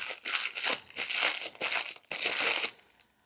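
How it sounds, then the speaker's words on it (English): Cellophane wrapping on a pack of journaling items crinkles and crunches in several bursts of handling, loud and close, with short pauses between bursts before it falls quiet at the end. "They are wrapped in this cellophane."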